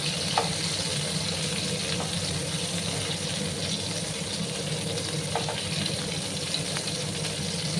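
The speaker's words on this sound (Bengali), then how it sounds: "একটু লাল করে আমি পটলগুলোকে ভাজবো।" Pointed gourd (potol) frying in oil in a pan, a steady broadband sizzle that runs the whole time with a few faint clinks of stirring, and no voices.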